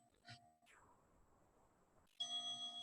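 A meditation bell rings during an online session: a small struck tone fades away, then a clearer, sustained ring with bright overtones sounds at the end, faint and alone.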